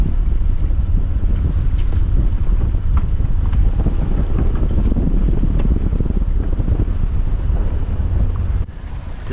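Sailboat under sail with the genoa out in a swell, engine off; steady wind buffeting and rushing water fill the scene, close and continuous, with a brief drop near the end.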